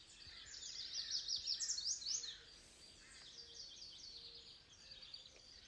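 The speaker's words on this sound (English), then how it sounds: "I'm hearing the birds" Birds chirp and sing in the distance over a faint outdoor hush, with a brighter burst of rapid trills early on.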